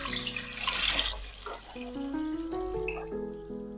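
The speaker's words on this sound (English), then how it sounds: "Now into this I'm going to add 5 cups of water." Water pours from a tap into a cooking pot for chicken mandi, a close, steady splashing and trickling. The pitch rises as the pot fills, and no voices are heard.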